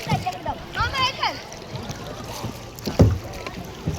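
A kayak is paddled through water in the mangroves at Khavane, with repeated splashing and dripping paddle strokes alongside occasional human voices and vocal sounds nearby.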